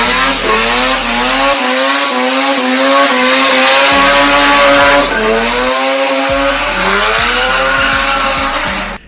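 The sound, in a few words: rotary engine sports car revving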